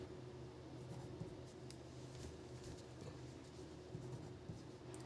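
Pen writing on paper while a trigonometry problem is solved by hand, a soft steady scratching that runs quietly throughout with faint room hiss and no talk.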